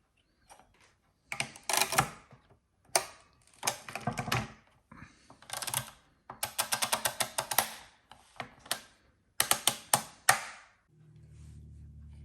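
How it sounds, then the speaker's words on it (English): Marchant Standard A mechanical calculator with its crank lever missing, turned by hand in repeated bursts of clattering, ratcheting gear and pinwheel noise with short pauses between, close and fairly loud, no talking, ending in a low steady hum. "on this Marchant, you have to continue the crank"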